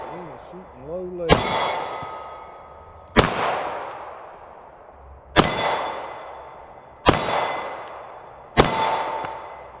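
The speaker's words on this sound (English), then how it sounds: "That was not a good shot." Pistol shots ring out at a shooting range: five loud, sharp reports spaced a second or two apart, each followed by a ringing, echoing tail.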